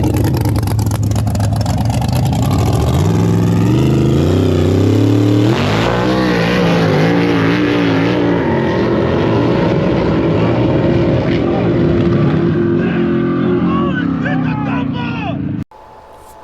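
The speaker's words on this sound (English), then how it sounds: "So what you watch there is Jerry pedal his way down 660 feet" A drag racing car makes an eighth-mile (660-foot) pass, its engine roaring loudly with rising and falling pitch sweeps through gear changes, steady and close before cutting off abruptly near the end.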